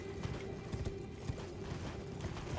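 Horse hooves clip-clopping in the video game Elden Ring, a quiet, steady trot of soft thuds with a faint mechanical rattle underneath, heard alone without talk.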